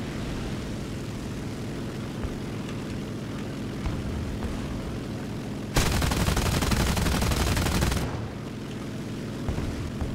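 A propeller fighter's engine drones steadily through a War Thunder air battle, then a dense, loud two-second burst of cannon fire rattles over it before the engine noise carries on alone.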